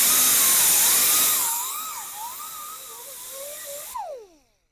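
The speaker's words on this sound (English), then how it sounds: "Got a wire wheel on a angled die grinder." A wire wheel on an angled pneumatic die grinder cleans metal ahead of brazing on a Delta Rockwell tool grinder. It gives a loud high whine with harsh hiss, easing in pitch under load, then cuts off and spins down.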